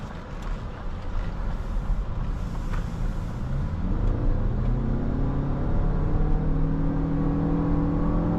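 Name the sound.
2024 Lexus RX 350h hybrid accelerating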